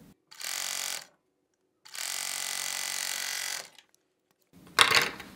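Four-thread serger overlock machine stitches knit sweatshirt fabric, two sustained bursts of fast mechanical whirring with a short pause between, then a brief clunk, close and alone.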